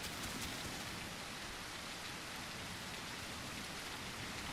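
Steady rain pours in a video game scene, a dense, even hiss of drops hitting surfaces that holds constant throughout, moderately quiet, with no talk.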